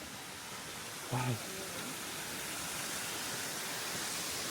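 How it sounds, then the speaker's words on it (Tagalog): A large waterfall roars as a broad, steady rushing wash of noise that fills the whole scene, with a person briefly exclaiming over it. "And this is the falls."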